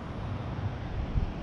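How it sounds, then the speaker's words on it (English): Strong gusty wind outdoors on a blustery day, a loud rumbling roar buffeting the microphone with low surges and no voices. "it is super windy out, pretty gusty today"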